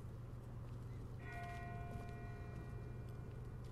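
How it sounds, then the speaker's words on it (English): Faint bell tones ring out far away in The Walking Dead video game, a few sustained strikes rising from about midway through over a steady low rumble of ambient background noise. "That's not the same bell as before. This one's further off."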